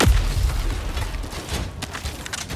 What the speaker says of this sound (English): The expendable anti-tank launcher is extremely powerful.